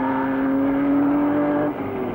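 Juan Manuel Fangio's Alfa Romeo race car on the road, a loud, steady engine drone with a sustained high whine that drops slightly in pitch near the end as it passes.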